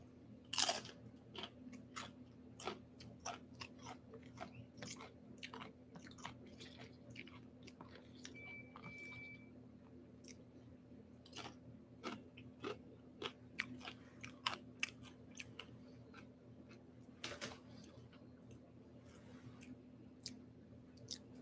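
A snack is chewed with faint, irregular crunches and bites spread across a long stretch, close but quiet over a constant low electrical hum.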